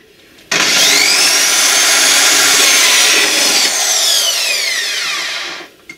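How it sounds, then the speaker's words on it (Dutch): A loud, continuous high-pitched drilling whine bores through a 5-litre plastic paint bucket for about five seconds, its pitch shifting slightly, then winds down and stops. "wat ik nu aan het doen ben is gaten boren in de verfemmers"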